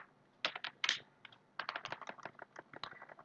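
Code being typed on a computer keyboard, a quick run of close, crisp key clicks in uneven bursts with a short pause near the middle, no speech.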